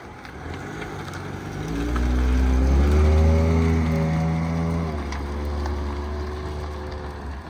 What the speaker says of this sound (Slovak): týmto oznamujem, že sa ide na prvú skúšobnú jazdu s týmto autom